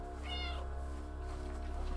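A brief cat meow rings out in the game Stray, a single clear call near the start over a constant low electrical hum and faint ambient music.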